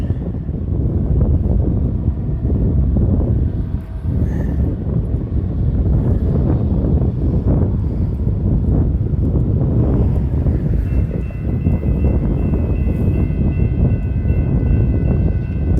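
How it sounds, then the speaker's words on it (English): Strong, continuous wind roaring across the microphone with heavy low rumble throughout, a faint distant hum underneath from an old GE diesel locomotive. "Sorry, it's so windy."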